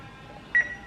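A single short electronic beep sounds from an oven control panel while the oven is set to 450 degrees, standing out briefly over a quiet kitchen background.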